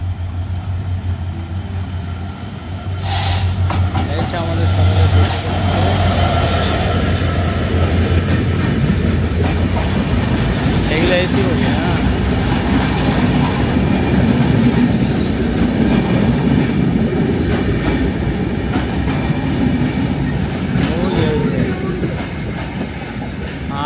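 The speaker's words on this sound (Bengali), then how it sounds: "এই যে দাদা স্টেশনে চলে আসছে আমাদের ট্রেন।" A train pulls into a railway station with a loud, continuous rumble and rattle of rolling wagons that holds steady throughout, while people nearby talk over it.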